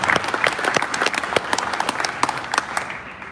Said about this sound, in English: y'all can clap for that